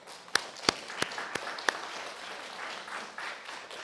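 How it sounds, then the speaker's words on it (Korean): A church congregation claps briefly during a Sunday service: a handful of sharp, separate claps near the start, then a softer, diffuse patter of clapping that trails away, with a low murmur of room noise underneath. "박수 한번 쳐줘봐요"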